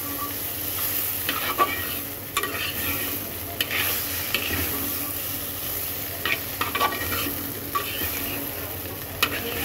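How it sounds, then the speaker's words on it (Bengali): Chopped water spinach (kolmi greens) frying lightly in a pan, a constant crackling sizzle with repeated scraping strokes and clicks as the greens are stirred, close and clear with no voices. "তো চলো এটাকে 2-1 মিনিট একটু হালকা ভেজে নেই।"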